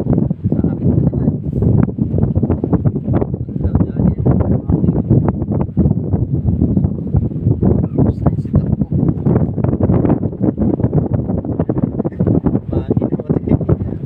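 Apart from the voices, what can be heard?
wind blowing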